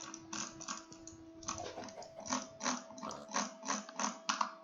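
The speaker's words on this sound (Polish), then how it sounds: "Oczywiście drag click." Rapid bursts of drag-clicking on a computer mouse during Minecraft play, in fast uneven clusters, close and crisp, over a steady background hum, with no talking.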